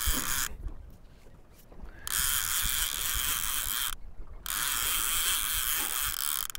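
A fishing reel's clicker ratchets in rapid buzzing bursts while trolling for lake trout and salmon with lead core line, interrupted by two short pauses.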